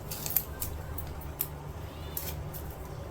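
Tim Holtz scissors cut through paper for card making, a series of short, crisp snips at an uneven pace, fairly close and quiet with no talking.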